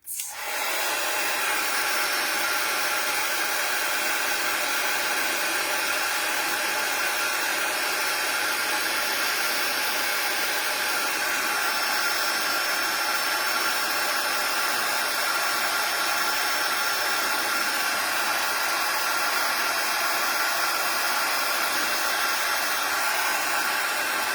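A heat tool blasts steady, loud airflow hiss while melting embossing powder on a stamped card, a continuous even roar starting abruptly and running for over twenty seconds without pause.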